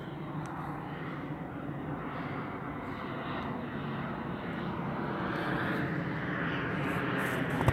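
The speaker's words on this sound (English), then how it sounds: "I got a nice plane flying over." A fixed-wing airplane passes overhead outdoors, a steady broad engine drone that holds for the whole stretch and slowly builds louder toward the end, with no voices over it.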